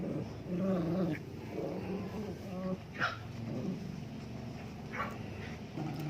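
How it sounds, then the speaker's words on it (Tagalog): Dogs, an American Bully and Shih Tzus, whine and growl low and steadily nearby, with a few higher yelps breaking through. "Umiiyak naman yung ibang aso."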